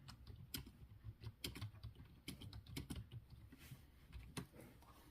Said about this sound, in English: I am just going to type in here.